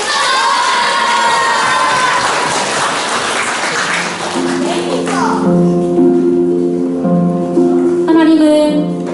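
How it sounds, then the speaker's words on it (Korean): Children and a church audience at a Christmas Eve event cheer and shout loudly, then a burst of shouting fades as sung or chanted tones take over, with clapping mixed in. "박수와 함성을 함께 해주시면 아이들이 더 힘이 날 것 같습니다"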